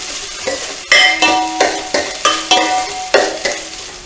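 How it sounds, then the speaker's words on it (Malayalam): Shallots fry in a pan for a Kerala-style moru curry, a utensil scraping and stirring in close, regular strokes about every half second over a soft sizzle, with no voices. "ഇനി ഉള്ളിയൊക്കെ ഒരു ബ്രൗൺ കളർ ആവുന്നിടം വരെ നമുക്ക് മൂപ്പിക്കണം."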